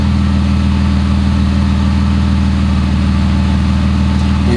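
A repaired car engine, formerly misfiring from water in a cylinder, idles smoothly and steadily up close, a continuous even low rumble with no talking.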